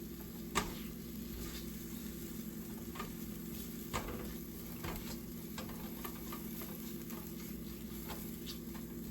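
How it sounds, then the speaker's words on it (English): Roux cooking on low heat on an electric stove for macaroni and cheese, a steady soft sizzle with occasional clicks and scrapes from stirring, close and alone. "we're just gonna cook our roux for about a minute or two"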